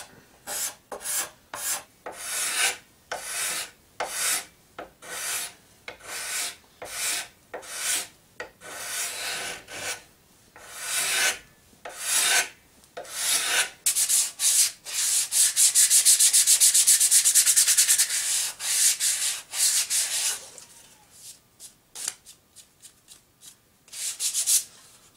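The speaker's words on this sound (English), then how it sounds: "Working on these edges with some 100 grit sandpaper, which is Putting a much nicer finish on the edges of these plywood pieces" Plywood edges are worked by hand with 100 grit sandpaper, producing close, raspy strokes in quick bursts, then a sustained stretch of continuous sanding before short strokes return, with no voices.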